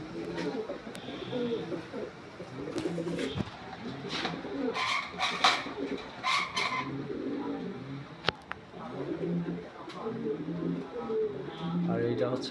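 Red Lahori pigeons cooing in a loft, soft repeated low coos running steadily under someone talking throughout, with a few sharper clicks and bird calls in the background.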